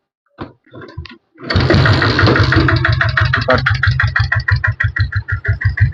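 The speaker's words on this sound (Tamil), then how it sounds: "வண்டியை நான் ஸ்டார்ட் பண்ணி காட்டுறேன். பீட் சவுண்ட் எல்லாம் கேளுங்க." A heavy single-cylinder Royal Enfield diesel Bullet engine coughs and catches after a few brief knocks, then settles into a loud, steady thumping idle close by.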